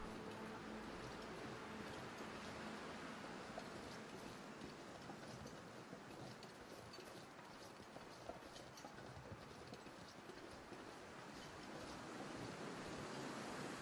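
Wind in the game The Long Dark, a steady broadband rushing that swells slightly and never stops, faint and even across the whole stretch, with no voices.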